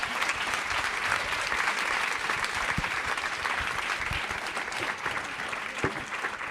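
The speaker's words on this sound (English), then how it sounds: "How about another round of applause for our panel?" Audience applauding a panel at the close of a live discussion event, steady dense clapping filling the whole stretch at moderate level, with no talk over it.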